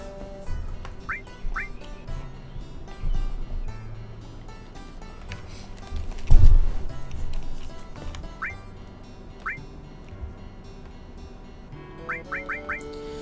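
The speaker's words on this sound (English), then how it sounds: "There's a bird in your house." Short rising bird chirps come in small bursts, some in quick runs of three or four, over music and game sounds in Final Fantasy 7, with one loud thud partway through.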